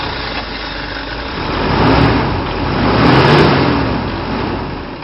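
Engine of an old Toyota car in the Philippines running steadily, then revving up twice in swelling surges before settling back, loud and close with no talk.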